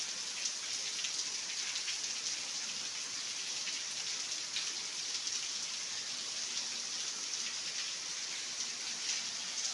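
Steady heavy rain patters densely on surfaces, an even, constant hiss with no pauses and no voices.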